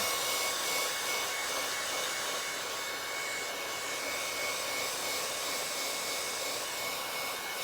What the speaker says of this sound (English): I'm going to dry this so I can take it home.